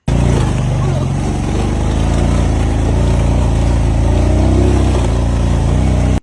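A motorcycle engine runs steadily and loudly over a damaged mountain bridge on rough terrain, its droning rumble continuous and close throughout.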